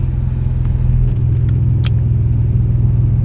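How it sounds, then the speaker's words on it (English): A Nissan 350Z with a newly installed engine runs with a deep, loud, throbbing rumble close by, steady throughout, with a few light metallic clinks like jangling keys. "Okay, car starting."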